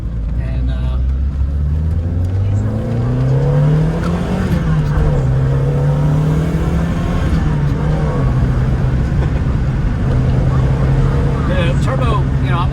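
A turbocharged 1988 Lancia Delta HF Integrale rally car engine revs up and down close by to about 5,000–6,000 rpm, its pitch rising and falling in a loud, continuous drone while someone talks over it.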